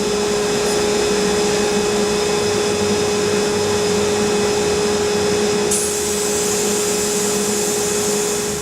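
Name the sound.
sandblasting motorcycle fork legs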